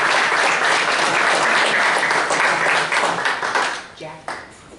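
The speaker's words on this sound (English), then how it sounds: "let's give Eric a round of applause" Loud, dense audience applause for Eric at a museum event, steady through most of the stretch, then thinning out and fading at the end, with some talk mixed in.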